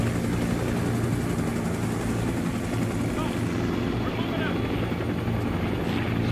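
Helicopter landing in the video game Arma, a loud continuous rotor thrum and turbine whine, steady and close throughout.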